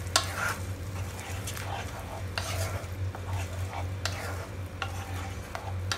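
Yogurt is stirred into a sizzling fish curry gravy in a pan, with continuous frying hiss and intermittent spatula scrapes and knocks against the pan, near and steady, along with a low background hum.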